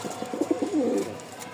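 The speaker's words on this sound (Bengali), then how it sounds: "নরের এবার ডাকটা দেখেন মাশাআল্লাহ।" A male pigeon coos in a low, throaty, rolling call that swells and pulses through a short phrase, close and fairly clear against a quiet room.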